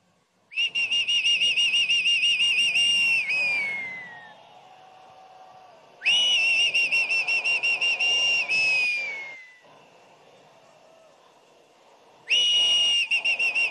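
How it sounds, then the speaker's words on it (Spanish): Crowd at a PSUV party rally in Caracas whistles loudly and shrilly in three sustained bursts, each lasting a few seconds and trailing off into a low murmur between them. "Vamos a ver quién silba más fuerte aquí."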